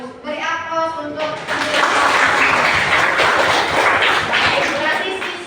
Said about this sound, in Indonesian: Beri aplaus untuk